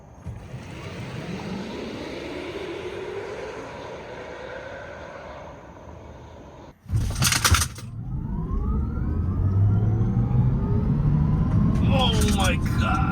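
A Tesla Cybertruck accelerating from 0 to 60, a rising electric whine building steadily with road and wind rush, interrupted by a brief loud burst of noise midway, then a continued strong whir; people talk over it.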